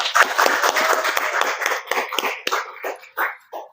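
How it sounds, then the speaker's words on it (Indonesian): A small group clapping hands in a podcast studio, brisk and close, the claps thinning to a few scattered ones that trail off toward the end. "Kasih tepuk tangan dulu untuk anak."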